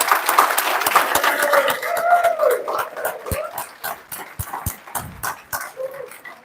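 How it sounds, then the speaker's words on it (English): Applause from a crowd at a graduation ceremony, starting dense and steady, then thinning into scattered separate claps toward the end. "Can we give a round of applause for our graduates,"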